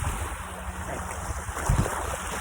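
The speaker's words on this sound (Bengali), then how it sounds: "ঢেউ লাগতেছে আমার পায়ে" Sea waves wash around a person's feet at a salty seashore, a steady rushing wash with heavy wind buffeting the microphone and a slightly stronger surge near the end.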